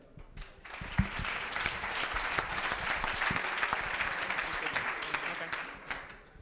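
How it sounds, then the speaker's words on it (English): An audience breaks into applause that swells quickly into steady, full clapping and carries on for several seconds. "I would each and every one of you to clap an amazing applause for Florian"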